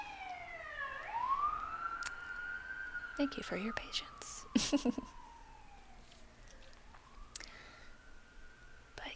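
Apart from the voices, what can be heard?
police car siren passing by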